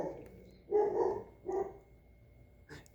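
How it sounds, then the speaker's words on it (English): A pet dog barks in a quiet room, giving a few short, clear barks: a pair close together, another soon after, then one fainter yelp near the end. No talking. "my dog was barking"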